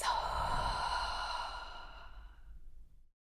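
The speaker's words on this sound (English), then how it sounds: "So we're going to take in oxygen from our nose and release through the mouth." One deep, slow breath is released through the mouth in a long, close sighing exhale that fades out gradually to silence.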